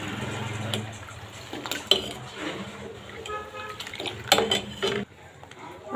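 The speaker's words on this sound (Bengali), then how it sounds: "দুধটা এখন মিশিয়ে দিব।" A spoon stirs milk into water in a cooking pot, with scraping strokes, soft sloshes and scattered metallic clinks against the pot's sides, all close and moderately loud.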